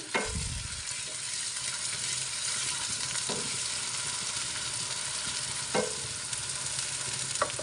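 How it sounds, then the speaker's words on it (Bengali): Chopped onions, two large ones, frying in a pan, a steady loud sizzle running throughout with a few soft stirring clacks of a spoon against the pan. "এখন পেঁয়াজ কুচিগুলো একটু ভেজে নিচ্ছি"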